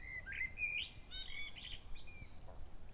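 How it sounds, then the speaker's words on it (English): Outdoors, small birds chirp and tweet in short, bright, overlapping calls, faint and somewhat distant, over a low ambient background. "Can you hear the birds?"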